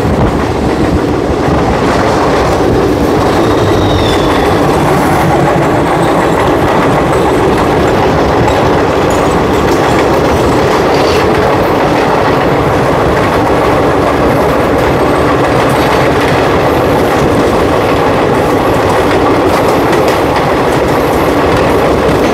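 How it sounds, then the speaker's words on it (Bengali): The 15623 Kamakhya Express, a passenger train bound for Kamakhya, rushes past at close range with a continuous loud rumble and rhythmic clickety-clack of wheels over rail joints. "এই মুহূর্তে আমাদের সঙ্গে দেখা যায় 15623 ভগত কি কোটি থেকে কামাখ্যাগামী কামাখ্যা এক্সপ্রেসের সাথে"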